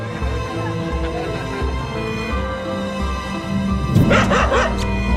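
A mother dog yips and whimpers for her puppy over constant droning background noise and music-like tones, with a burst of higher cries near the end.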